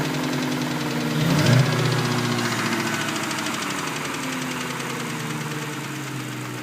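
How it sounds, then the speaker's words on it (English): A 1997 Ford Mustang GT engine idles steadily up close, with a rapid, even ticking tap running through the rumble and a brief swell early on. "it sounded like I was getting some tapping out of the engine"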